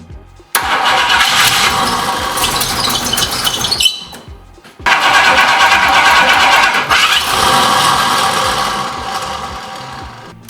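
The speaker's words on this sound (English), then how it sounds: "See if it cranked up." A 1968 Ford Mustang V8, just fitted with a spliced fuel hose and new fuel pressure regulator, cranks and fires up loud and close, stumbles briefly around the midpoint, then catches again and runs rough and steady with no talking.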